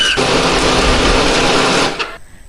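A kitchen blender grinds spice paste with added water, a steady loud whir for about two seconds before it cuts off abruptly into quiet.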